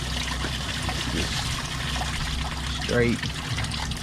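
Coolant trickling and splashing out of a pulled radiator hose on a 2012 Jaguar XF 5.0L V8, a steady close dribble with a voice speaking over it.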